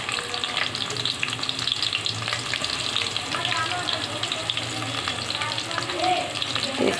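Onions hitting hot oil in a pan, frying with a steady, dense sizzle at the start of a beef curry, close and fairly loud throughout with faint stirring.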